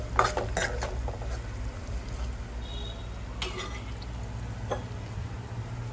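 Kantola (spiny gourd) curry with coriander-cumin powder, chutney, garlic and garam masala being stirred in a pan, giving a few scraping clinks of a spoon against metal over a soft steady sizzle, close and moderately quiet with no talking.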